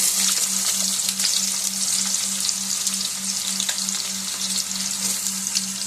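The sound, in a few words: onions frying with cumin seeds in a pan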